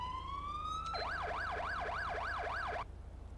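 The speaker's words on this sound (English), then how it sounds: "We've also got our siren." A police siren in Grand Theft Auto V wails up and down about six times over a steady low engine hum, after a rising electronic tone, then cuts off abruptly.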